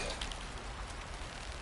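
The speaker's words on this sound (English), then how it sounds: "just bracing for this rain." Steady rain falling in the video game Horizon Forbidden West, a dense continuous hiss of drops with no voices, fairly loud and even throughout.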